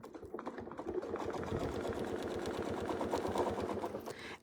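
A sewing machine stitching fabric for a quilt block, a steady rapid mechanical chatter that runs continuously at an even, fairly quiet level with no talk over it.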